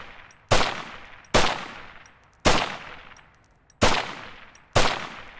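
Volk Marksman rifle firing in a video game, five loud, sharp single shots spaced about a second apart, each trailing off in a ringing decay.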